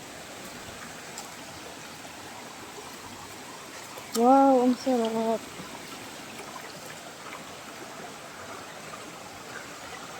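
A stream at a beach resort in General Nakar, Quezon, gives a steady soft wash of flowing water through the whole stretch, with a brief spoken exclamation rising over it partway through.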